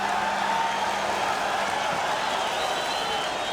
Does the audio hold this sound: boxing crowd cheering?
yes